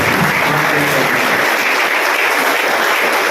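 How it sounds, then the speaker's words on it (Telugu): A large audience claps together to welcome priests at a church feast-day Mass, a dense, loud, steady roar of applause, with a voice faintly audible at the start. "మనందరం కూడా మనస్ఫూర్తిగా చప్పట్లు కొడుతూ వారిని ఆహ్వానిస్తున్నాము"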